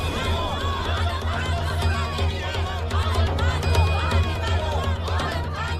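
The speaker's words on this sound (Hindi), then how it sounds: "देखिए अपनी आंखों से आदम कितनी भीड़ इकट्ठा है।" A large crowd gathered for a historical drama scene murmurs and chatters steadily, a dense babble of many voices that stays constant throughout, with no single speaker standing out.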